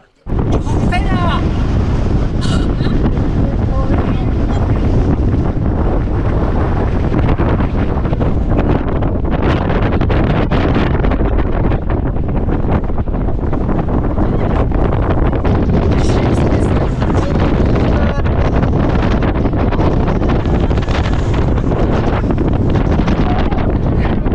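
Strong wind buffets the microphone on an outdoor nature trail, a loud continuous roar with gusty fluctuations for the whole stretch, and faint speech may be mixed in.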